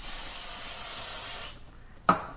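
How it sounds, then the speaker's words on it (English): Non-stick cooking spray hisses from a can onto a pan in one continuous burst of about a second and a half, close up, then stops, followed by a short sharp knock. "always use cooking spray"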